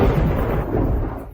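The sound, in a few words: sudden thunder on a clear day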